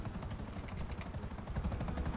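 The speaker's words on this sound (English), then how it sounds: "So how do I summon a buzzard? Request luxury helicopter." A Buzzard helicopter in GTA Online arrives with a steady, rapid rotor thump and engine whine, fairly close and continuous, with no talk over it.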